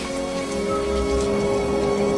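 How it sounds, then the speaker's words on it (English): Steady, dense rain falls in a film scene, a close, even hiss of drops with a faint low hum beneath, unbroken from start to finish. "I wish the rain would stop just once."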